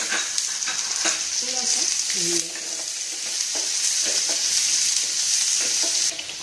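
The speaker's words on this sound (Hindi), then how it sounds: "और हरी मिर्च, 1 बड़ा कटा प्याज के डालेंगे," Green chili and chopped onion fry in a pan with a steady bright sizzle and repeated stirring scrapes close up, as someone briefly speaks.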